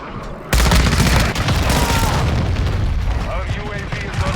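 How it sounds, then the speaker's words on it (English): A friendly cruise missile strikes in Call of Duty: Modern Warfare II multiplayer: a sudden heavy boom lands after a brief lull, then a dense, roaring rumble of blast and debris rolls on loudly to the end. "Friendly cruise missile approaching target."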